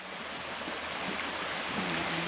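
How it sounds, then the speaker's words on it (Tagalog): River water flows steadily and close by as a continuous broadband rush with no pauses, heard alone with no voices, at a riverside near a sea with strong waves. "nandito tayo sa ilog"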